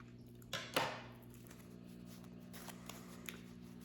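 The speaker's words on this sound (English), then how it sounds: "And shuffle these guys" A small deck of God cards being shuffled by hand, with a brief burst of riffling and card slaps near the start and a few faint taps afterward, heard quietly over a low steady hum.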